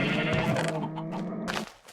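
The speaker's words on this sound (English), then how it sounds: "a bunch of wool, or sheep rather, different colors and stuff" Sheep in the Minecraft video game bleat loudly and close up, a sustained wavering call that fills most of the short stretch before cutting off near the end.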